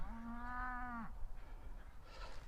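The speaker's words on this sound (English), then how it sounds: "And cows over there are mad." A single drawn-out moo from a cow in a field sounds at moderate distance, about a second long, followed by quiet outdoor background.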